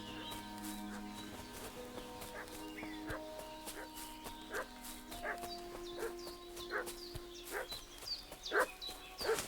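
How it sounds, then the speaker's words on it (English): Dog barking from Kingdom Come: Deliverance II, a series of sharp barks and yips at middle distance over game ambience with tonal music and occasional footsteps, growing louder toward the end. "What's that dog making such a fuss about?"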